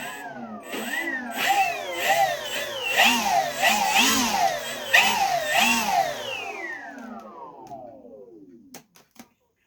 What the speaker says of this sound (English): I just got my left-hand motor put together on my three-bladed props.